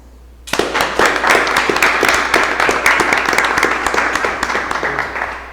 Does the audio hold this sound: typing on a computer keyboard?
no